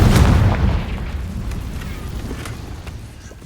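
The Confringo blasting spell from the Hogwarts Legacy video game goes off with a deep, loud boom that rolls into a long rumbling decay, heard alone with faint crackles trailing off.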